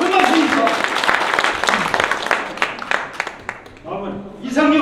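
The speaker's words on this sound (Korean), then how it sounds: "큰 박수입니다." At the opening of an invited art exhibition of Yongsan painters, the audience claps in a dense, close burst of applause while a voice speaks over it, then the clapping fades near the end.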